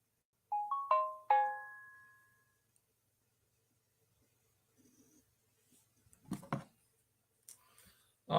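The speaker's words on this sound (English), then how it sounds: "Oh, personal phone's busy going off." A phone ringtone goes off near a football match watch-along: a short bright melodic chime of a few rising notes rings out clearly, then fades into quiet, followed by faint rustling and brief indistinct voices.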